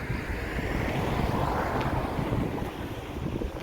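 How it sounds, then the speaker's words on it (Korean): An outdoor breeze rushes across the microphone during a walk, a steady, fairly loud low buffeting roar with no voices. "그런 바람이 막 지금 살랑살랑 불어오고 있습니다"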